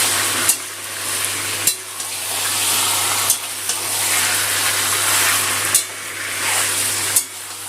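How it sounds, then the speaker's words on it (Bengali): Chicken pieces frying in hot oil with spices over a high gas flame give a continuous loud sizzle, broken every second or so by sharp stirring scrapes, no voices. "গ্যাসটা বাড়িয়ে দিয়ে মাংসটা ভালো করে কষিয়ে নেব তেলের মধ্যে।"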